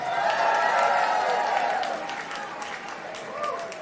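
Audience applause at a Fiesta reception, dense clapping and crowd noise loudest at first and then easing, with a voice carrying over it.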